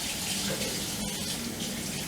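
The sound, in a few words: water from tap rinsing canned black beans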